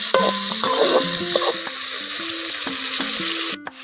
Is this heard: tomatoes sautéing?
yes